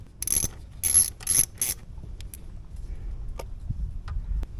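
A ratchet wrench loosens a 10 mm bolt on a Honda Grom motorcycle during a camshaft upgrade, a few close bursts of quick metallic clicking followed by faint small ticks and handling noises, no talk.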